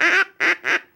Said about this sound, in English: Here's a duck call